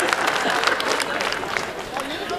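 Audience clapping at a Hindi comedy poetry recital, a short burst of scattered applause with voices and crowd murmur mixed in.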